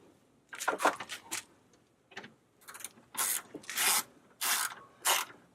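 A socket ratchet turns truck side-mirror bolts in short clicking strokes, close and fairly quiet, with brief pauses between runs of clicks.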